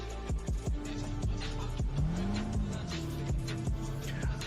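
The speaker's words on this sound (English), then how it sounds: "this beautiful purple RX-7 with what it sounds like some sort of V8 swap" A V8-swapped purple Mazda RX-7 drift car at a competition's starting line, its engine revving loudly in repeated sharp blips with a rising, wavering tone over a steady rumble.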